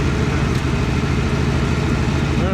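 A 1963 Ford Fairlane 500 with its 260 V8 idles steadily and close by, a smooth continuous low rumble with no talk over it.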